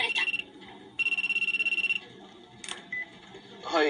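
A telephone rings with a trilling electronic tone in two bursts, a short one and then a longer one lasting about a second, followed by a few brief clicks and a rustle.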